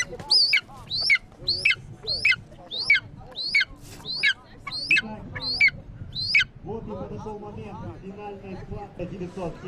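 Eagles at an outdoor eagle games event give about ten loud, sharp squawking calls in steady succession, then fall quiet as speech and crowd noise take over.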